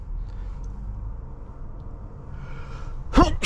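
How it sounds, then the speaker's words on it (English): Two quick sneezes burst out near the end, from a driver in a 2024 BMW X5 M60i. Before them is a quiet cabin with a low road rumble. "Sneezing out of control here."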